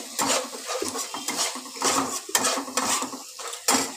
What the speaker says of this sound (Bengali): এবার আবার একটুখানি নাড়াচাড়া করে নেব